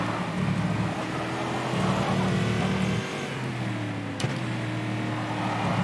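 Metalmoro AJR prototype race car with a Chevy engine of around 550 brake horsepower, in rFactor 2 at VIR: loud, steady engine drone that rises and falls through gear changes, with a sharp shift click near the end.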